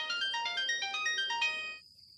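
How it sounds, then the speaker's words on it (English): A telephone rings with a bright electronic ringtone, a rapid repeating pattern of high warbling tones that plays loudly for almost two seconds and then stops, leaving a faint thin tone. "The phone's ringing."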